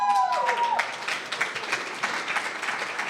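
A graduate's cheering section applauds at a 2023 commencement awards ceremony, steady clapping from a crowd after a brief tone, moderately loud and sustained without talk.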